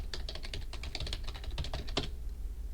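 Keys on a computer keyboard are tapped in a quick, irregular run of about a dozen soft clicks as a password is entered, faint and close, stopping after two seconds with no voices.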